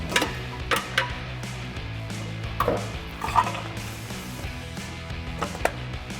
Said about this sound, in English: So we'll grab our exhaust hanger remover tool, pop these out